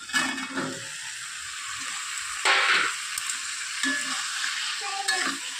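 Vegetables and okra sizzling as they fry in sambar masala in a pan, with a steady close hiss broken by several stirring scrapes and louder bursts of frying, and no talk.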